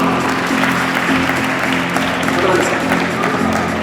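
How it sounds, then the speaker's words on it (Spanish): An audience at a magic show, part of a science contest presentation event, applauds a volunteer on stage with steady, dense clapping throughout, mixed with voices and crowd noise. "aplauso para Paula"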